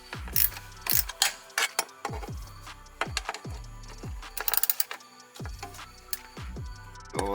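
A screw is driven back into the cold air intake on a 2000-2018 Jeep Wrangler Unlimited Sport, with close, crisp ratcheting clicks in quick bursts and brief pauses between turns.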